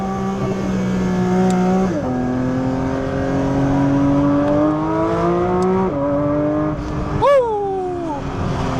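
A car engine revs up and pulls hard, its pitch climbing steadily, dropping at a gear change, then rising again. The run ends in a sharp high-revving burst, loud and close, with no talking.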